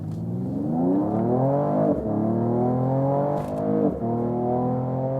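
Mercedes-AMG CLS 53 facelift accelerating hard from 0 to 100 km/h, a smooth engine note climbing steadily in pitch from inside the cabin, dropping briefly at two quick gear changes before rising again.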